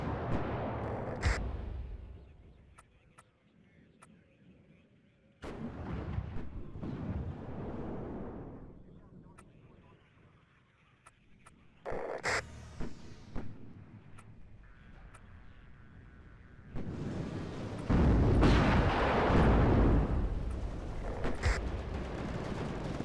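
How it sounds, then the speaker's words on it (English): Challenger tanks fire in the WARNO wargame, heavy booming cannon shots recurring irregularly amid rumbling battlefield noise, with a voice talking over parts of it. "It is nice to just hear the Challengers firing away."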